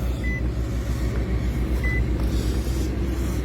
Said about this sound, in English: So we're going to start the car up.